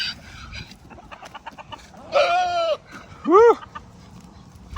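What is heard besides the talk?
chickens clucking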